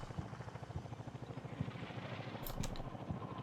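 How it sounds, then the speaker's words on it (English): A video-game helicopter's rotor chops in a steady rhythmic thud at moderate distance in Combat Mission: Cold War, its low whir continuing throughout with a brief clicking sound partway. "I can still hear the helicopter buzzing around."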